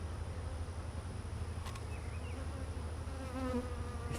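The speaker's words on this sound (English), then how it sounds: "This hive was packed with bees." A dense, continuous buzz of many honeybees at a packed hive, steady and close, with a few individual insects droning a little louder as they pass.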